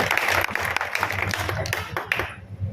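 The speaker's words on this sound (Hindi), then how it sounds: "एक बार जोरदार तालियों से हमारे लोकप्रिय नेता का स्वागत करें" A crowd claps loudly to welcome a popular political leader at a local campaign gathering, with irregular bursts of hand claps over a low hum and murmur of voices before the clapping fades near the end.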